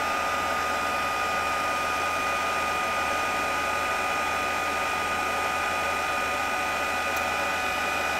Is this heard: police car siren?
no